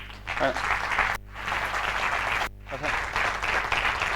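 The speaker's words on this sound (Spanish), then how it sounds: "quiero hacer subir a nuestro alcalde con un fuerte aplauso" Crowd applause welcoming the mayor at a municipal archive opening in La Unión, steady and fairly loud, cutting out briefly twice, with a voice speaking over it.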